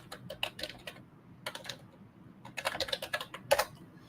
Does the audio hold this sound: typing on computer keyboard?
yes